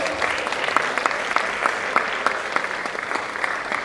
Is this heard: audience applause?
yes